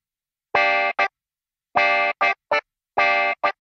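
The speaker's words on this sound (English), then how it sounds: "I brought up a clavinet patch on my Nord stage, added some distortion and auto wah." Distorted clavinet patch played on a Nord Stage keyboard through auto wah, three short funky phrases of quacking, wah-swept stabs with brief gaps between them, loud and dry with no talking.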